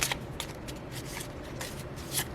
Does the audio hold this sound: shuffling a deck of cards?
yes